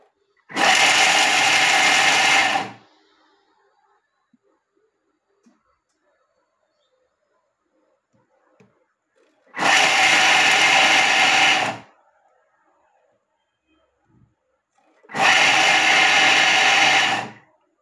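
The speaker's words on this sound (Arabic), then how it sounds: "غادي نطحنو عاوتاني مرة أخرى لأن جاني شوية غليظ" A Thermomix TM6 grinding cheese runs in three loud, even whirring bursts of about two seconds each, separated by long quiet pauses.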